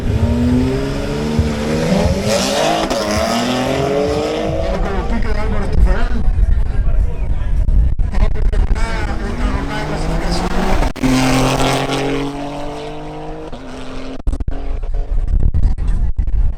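BMW X3 M Competition SUV accelerating hard at a drag race, engine revving and climbing through rising gear pulls, loud and close, with an announcer talking over much of it.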